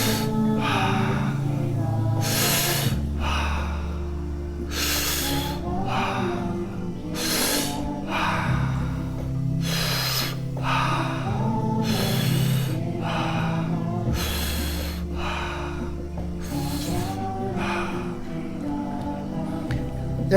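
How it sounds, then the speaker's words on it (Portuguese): Slow, regular breaths are drawn in and pushed out through the mouth, roughly a dozen audible rushes of air spaced a couple of seconds apart, close and fairly loud over a low steady background. "Puxa o ar pela boca e solta pela boca."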